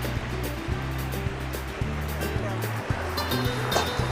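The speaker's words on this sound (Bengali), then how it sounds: "ঢেউ ভালো আছে, বোট আমাদের কাঁপছে।" Sea waves slap and wash around a speedboat off Dublagadi beach, a steady roaring surf with an engine drone beneath and people talking throughout.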